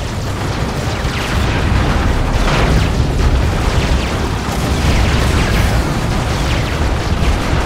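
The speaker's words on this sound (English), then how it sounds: "Missile takes care of those pretty quickly." Missile explosions in the strategy game Dawn of War 2: Retribution make a dense, continuous roar of rumbling blasts and battle noise. It stays loud and unbroken throughout, with no speech.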